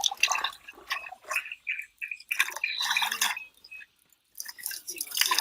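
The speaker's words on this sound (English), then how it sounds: "We have water coming from the rocks." Fresh mineral-rich water trickles from rocks at a natural water source, a bright patter of drips and splashes coming in bursts with short quiet gaps, close and clear.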